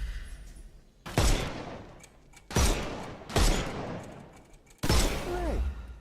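Four heavy gunfire bursts in Dragon Age: The Veilguard as enemy armour is shot off, each a loud booming blast that trails off before the next, spaced roughly evenly apart.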